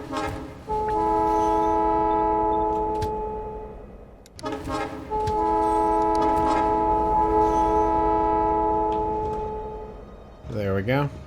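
Train horn in Factorio sounding two long sustained chords as a game train arrives, each blast loud and steady with a brief gap between them, ending with a short rising tone.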